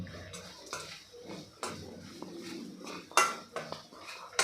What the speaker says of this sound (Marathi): आता हे सगळं आपल्याला मिक्स करून घ्यायचं आहे